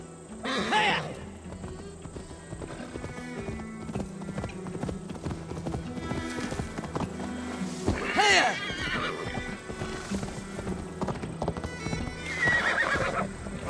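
A horse in Assassin's Creed Valhalla gallops with a rapid, continuous clip-clop of hooves, punctuated by several loud neighs and whinnies, while game voices talk over it.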